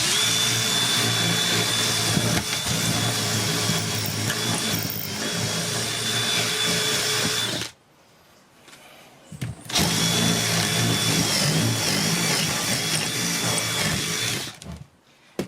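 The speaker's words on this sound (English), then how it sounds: "you can actually just use the drill" A loud power drill grinds continuously against limestone rock, breaking it out of a wood root, cuts out briefly, then resumes with the same harsh, steady roar.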